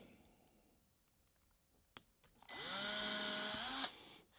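A power drill bores a hole in the back of a memorial display box, a sharp click and then a loud whirring burst of about a second and a half with a rising motor whine that stops abruptly.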